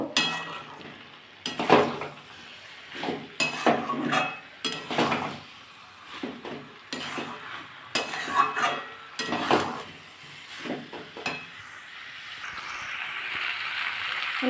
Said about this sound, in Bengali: আমি এবার মধ্যে ফুলকপিগুলো দিয়ে দেবো দুটার সাথে একটু নাড়িয়ে নেব